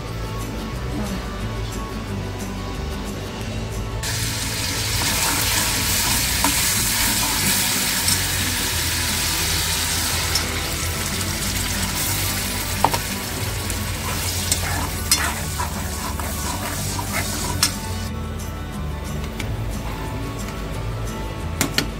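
Fish curry with rawas and karli fish in masala simmers and sizzles in a kadai, a steady frying hiss with intermittent stirring clinks and scrapes, loud and close.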